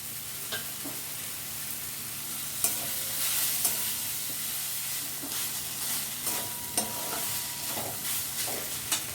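Grated paneer and capsicum fry in a pan while being stirred, a steady close sizzle with scattered scraping clicks from the utensil throughout; no talking.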